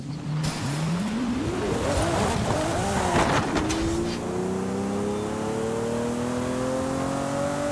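A Lamborghini in Forza Horizon 5 accelerates hard down a runway toward top speed, its engine rising through the revs with a gear shift partway through, then a loud steady climbing drone that stays close and alone.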